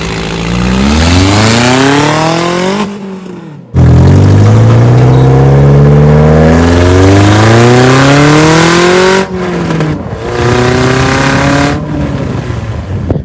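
A Scion xB fitted with a hood exit exhaust revs hard, loud raspy engine note sweeping up and down through several rising pulls with brief pauses between, close and dominant with no talking.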